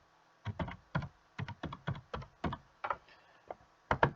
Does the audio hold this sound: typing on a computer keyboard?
yes